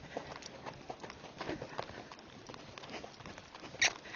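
An Icelandic cross horse moves at a saddle gait, its hooves thudding in a quick, even rhythm, faint and muffled under strong wind noise.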